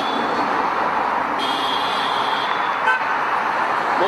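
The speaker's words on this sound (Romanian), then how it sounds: "un claxon iarăși hotărât" Car horn honking in protest outside during a street demonstration in Moldova, a single steady toot rising over continuous road traffic noise and lasting a couple of seconds.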